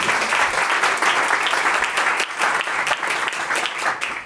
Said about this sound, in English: I think we should give a round of applause for Iris.